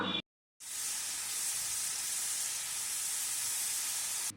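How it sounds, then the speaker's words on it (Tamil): Coconut milk simmers over medium heat in a pan, separating into coconut oil as it is stirred. A steady, bright sizzling hiss runs close and even after a brief silent gap at the start, with no talking. "மிதமான தீயில வச்சு இதை கொதிக்க விட்டுட்டே இருக்கலாம்"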